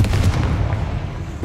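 Confringo blasting spell from Hogwarts Legacy erupting in a heavy, continuous low boom with rumbling, crackling debris, loud and close, no voices.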